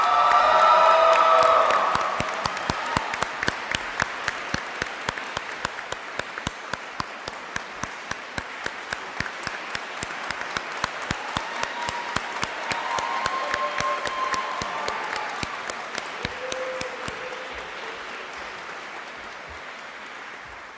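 Sustained applause with scattered cheers and whoops from a commencement ceremony audience after a master's graduate of the University of Southern Maine is named, steady clapping for about twenty seconds.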